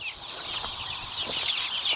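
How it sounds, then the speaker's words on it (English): Chickens cluck and chatter in a steady, busy stream of short calls, fairly faint, over a light outdoor background. "More chickens."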